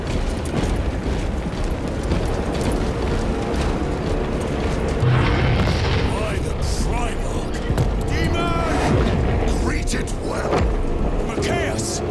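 Forces open fire with weapons in a Warhammer 40K Space Marine 2 battle, a dense, loud, continuous clatter of shots and mechanical bursts with swells of heavier blasts, spoken orders mixed into the din.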